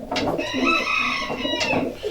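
A racing pigeon's call rings out clearly and close by in a loft, a sustained tonal cry between softer coos and shuffling sounds.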